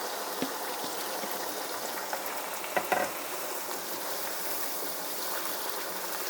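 Steady, dense sizzling of mustard greens (sarson ka saag) frying in hot oil, continuous throughout with a few brief clatters partway through.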